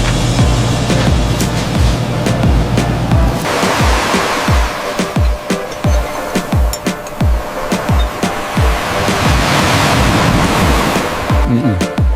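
Heavy surf crashes repeatedly in a dense, roaring wash, with wind buffeting throughout and no pause in the turbulent water.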